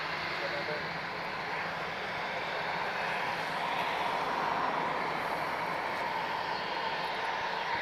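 Steady broadband roar of an inbound EasyJet airliner at Lisbon Airport, a continuous rumble holding level for several seconds at moderate loudness with no break.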